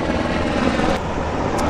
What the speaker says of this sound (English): We got choppers flying overhead.